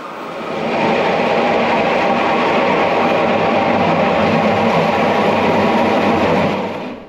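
A Rhaetian Railway Ge 4/4 I electric locomotive runs past with a steady, loud rumble and rolling wheel noise that holds from start to finish, fading in at the beginning and easing off at the end.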